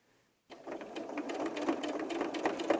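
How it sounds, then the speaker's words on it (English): After a brief quiet moment, a sewing machine starts and runs steadily, top stitching close to the edge of a collar on an 18-inch doll's top with a fast, even whirring drone. "We're going to top stitch this just to give it a nice look and feel."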